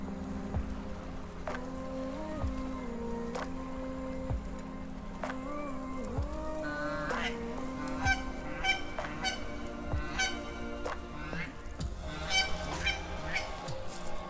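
Repeated honking calls of geese during a spring conservation goose hunt in Manitoba, a busy flock calling over and over, some near and some farther off, against a steady outdoor background.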